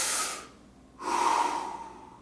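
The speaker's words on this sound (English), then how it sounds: "take a deep breath through your mouth" Someone takes a deep breath through the mouth: two close, airy, hissing breaths separated by a short pause, heard alone and fairly quiet.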